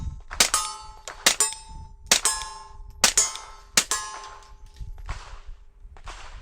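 A suppressed Glockstore GSX100 custom pistol fires subsonic 124-grain rounds: about six sharp, close reports in an uneven sequence, each followed by a bright metallic ringing clang that fades before the next shot.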